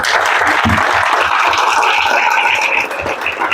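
A standing congregation at a Christian church book launch claps together in praise of God, a steady, dense wash of applause filling the space from start to finish with no voices over it.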